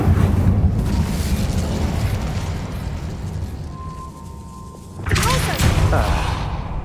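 An Incendio fire spell in Hogwarts Legacy erupts in a loud whooshing roar of flame, dies down into a quieter rumble, then flares again in a sudden second burst of fiery noise.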